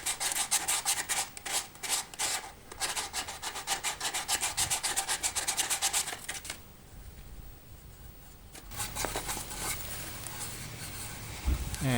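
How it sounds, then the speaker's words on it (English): Hand sanding of a wooden guitar body prototype in steady rhythmic back-and-forth strokes, close and fairly loud, with a brief pause before rougher rubbing resumes. "I do a fair bit of sanding on it as well"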